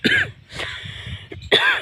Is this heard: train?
no